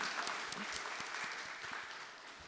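Steady, loud applause from a church congregation during a service, dense clapping that fades slightly toward the end.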